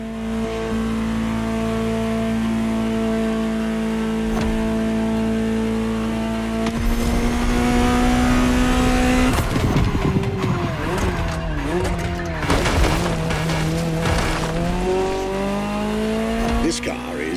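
Ferrari GTO, a collector's version of the 308 GTS, driven in The Crew Motorfest: a loud steady engine drone that jumps in pitch through gear changes and revs, with tire squeal and a voice talking over it.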